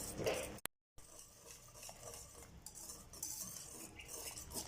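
A spoon stirs gram flour batter in a pot, giving quiet, close scraping and light clinks against the metal, with one brief dropout near the start.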